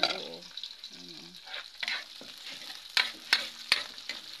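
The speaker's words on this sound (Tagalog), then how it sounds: "Ang ginisa ko, i-transfer ko dito." Ginger-spiced sautéed food is stirred and scraped from a pan into a pot of boiled mung beans: irregular utensil clatters and scrapes over a soft background sizzle, close and moderately loud, with no talking.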